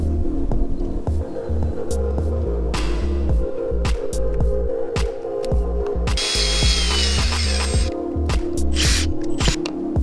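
A power drill drives screws to fit bungs into a half-cabin boat hull, whirring loudly in repeated short bursts over a steady background hum, close to the microphone with no talking.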